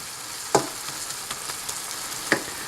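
Spinach and tomatoes wilting in a hot pan give a steady frying sizzle, broken by a few sharp clinks or stirring knocks, with no talk.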